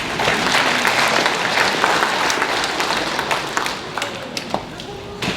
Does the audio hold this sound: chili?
no